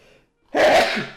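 A single sharp sneeze bursts out after a soft breath, loud and close, during a podcast conversation; a voice briefly mutters just before it.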